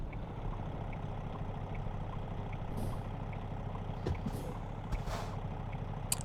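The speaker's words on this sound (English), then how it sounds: "it almost sounds like an engine from a van, like a transit van" A truck engine in a trucking simulator game sounds more like a transit van, giving a steady low droning hum with a few brief hissing or beeping sounds near the end.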